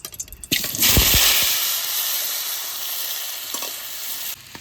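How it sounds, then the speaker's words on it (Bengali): Taro pieces dropped into hot mustard oil, setting off a sudden loud hissing sizzle that stays strong and steady, with a few faint knocks before it cuts off near the end. "হ্যাঁ গরম হয়ে গেছে এবার আমি কচুটা দিয়ে দেবো"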